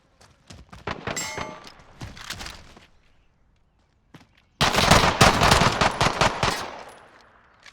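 Rapid gunfire from a Call of Duty match at a college tournament, in short automatic bursts and single shots, breaking off briefly before a denser, louder volley near the end.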